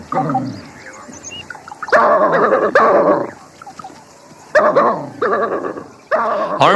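African hunting dogs in the wild give loud, close bursts of yipping barks and whimpers, in several separate outbursts with brief quieter gaps between them.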